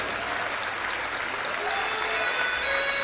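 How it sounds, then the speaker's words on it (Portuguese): A church congregation claps during a worship service, a steady, fairly faint wash of applause that swells slightly toward the end. "Aplauda aquela que está a pessoa que está do seu lado."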